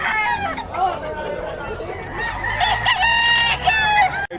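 Several roosters crow over one another at a chicken market in Bocaue, loud overlapping calls with clucking and faint voices in the background.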